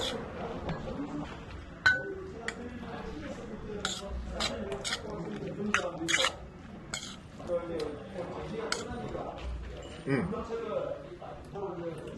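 Seafood bibimbap with crab being mixed in a bowl, with repeated clinks and scrapes of utensil against the dish and steady talk throughout.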